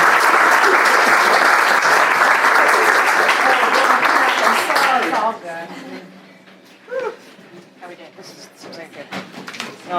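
Audience applause at a live reading event, loud and dense for about five seconds before fading, then a person begins talking into the quieter room.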